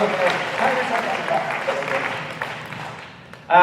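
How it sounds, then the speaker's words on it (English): Applause from a crowd at a 25-year high school class reunion for the former student body president, a dense wash of clapping that fades toward the end before a voice cuts in. "Let's give it a round of applause for our former student body president"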